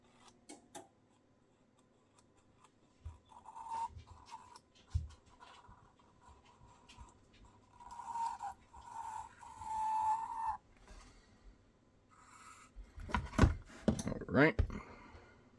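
A long reach marker traces an outline on a workpiece to be cut on a scroll saw, quiet intermittent scratchy strokes and squeaks, followed by a few louder knocks and clatters near the end, with some talking.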